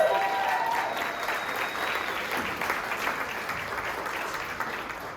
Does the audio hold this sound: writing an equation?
no